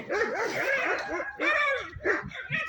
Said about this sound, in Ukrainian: Господи, чужі собаки сусідські.